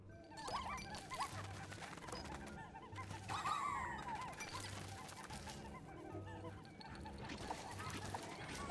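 Bird creatures swooping in during a night expedition in the video game Pikmin 4, with clucking, squawking fowl-like calls over a steady pulsing game music bed, fairly busy and continuous.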